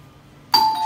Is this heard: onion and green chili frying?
no